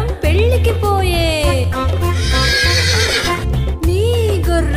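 A horse whinnies and hooves clip-clop steadily in a Telugu children's rhyme, both set against loud, continuous music with a steady beat.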